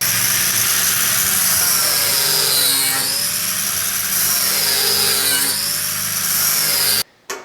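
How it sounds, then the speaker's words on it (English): A power grinder runs continuously on a weld on a Toyota Tacoma bumper, a loud, close, steady whine with slight rising and falling pitch before cutting off abruptly near the end. "the last grinding we do is going to be in this entire weld right here"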